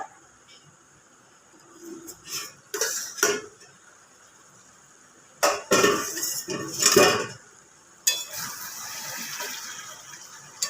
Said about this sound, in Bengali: এবার ঢাকা দিয়ে দেবো।